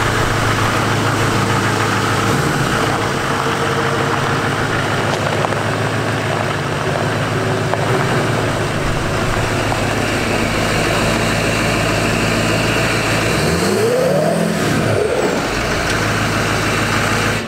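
Denali HD 10-lug pickup with a Duramax diesel idles with a steady low rumble for most of the clip, then revs up and back down sharply near the end, loud and close with no talk over it.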